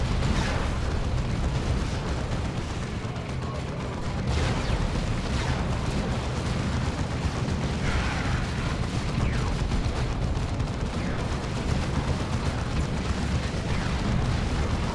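Dense, continuous explosions and artillery-like booms fill a Warhammer battle game fight where a Carnifex with a venom cannon fires from a valley, the loud rumbling barrage steady throughout without pause.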